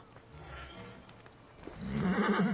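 Horse whinnying in the video game Assassin's Creed Origins, a soft snort and hoof sounds first, then a loud, close, quavering neigh building toward the end.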